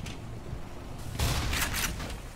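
A grenade blast in the Black Mesa shooter game erupts as a loud, broadband burst, with a low rumble that lingers and rings for about a second over steady game ambience.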